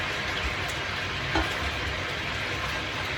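Onions frying in a pan, giving a steady, close hiss and sizzle that runs throughout with a faint scrape of stirring partway through.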